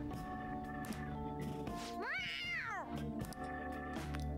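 A cat in Persona 5 Royal lets out one drawn-out, rising and falling meow in the middle of a steady game music bed, clear and fairly close.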